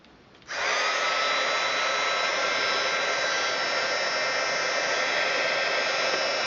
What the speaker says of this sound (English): I'm going to pull in my heat tool. And we are going to heat it up.